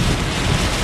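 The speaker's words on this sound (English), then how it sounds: "But actually the rain is easing up a bit" Heavy rain pours during a Florida thunderstorm, a loud, dense, unbroken roar with strong low rumble and wind buffeting on the microphone, filling the whole moment with no voices.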